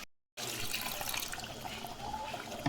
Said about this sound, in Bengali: একটু পরিমাণ মতন জল দিল।